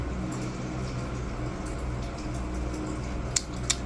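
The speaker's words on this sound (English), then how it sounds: "If you hear a noise in the background, that's my fan." An electric fan runs in a hot room, giving a steady low whooshing drone at moderate level, with a couple of faint ticks near the end.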